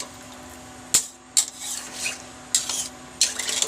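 A spoon scrapes and clinks around a pot as spice mix and soybeans are stirred, with several sharp metallic knocks spaced irregularly over a soft background hum.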